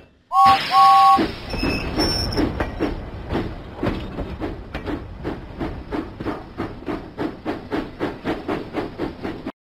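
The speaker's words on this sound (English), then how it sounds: "Huffing and puffing, James set out for the fair." A cartoon steam engine in a Thomas & Friends video game sets off with a short whistle blast, then puffs in a steady, quickening rhythm of chuffs, loud and close, with no talk.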